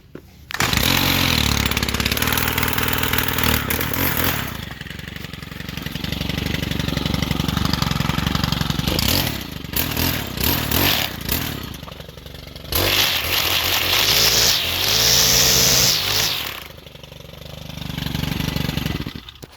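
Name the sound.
Stihl FS 111 R weed eater engine running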